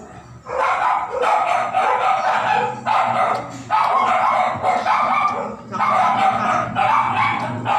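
Dogs bark repeatedly in bursts, loud and close, with short gaps between volleys and a low background hum beneath.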